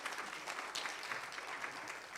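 An audience at the AGI Ghana Industrial Summit 2023 claps for a speaker as he takes the floor, a steady, even crowd applause, moderately quiet and slightly distant.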